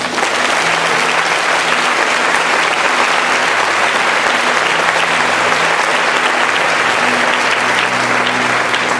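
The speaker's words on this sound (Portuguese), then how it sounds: "aplauda o Senhor" A church congregation applauding in worship, thick continuous clapping from a large crowd, loud and even throughout with no break.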